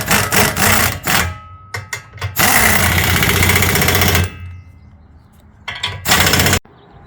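Power tool tightens bolts on a Jeep tire carrier in loud, buzzing bursts, one long run of about two seconds between shorter stop-start pulses and quiet gaps.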